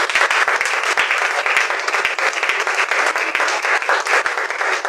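A church congregation breaks into loud, continuous applause, many hands clapping close and steady for the whole stretch with no talking over it.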